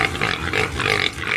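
Wild hogs grunting in the South Texas brush, a short burst of several close, rough, throaty grunts and snorts in quick succession.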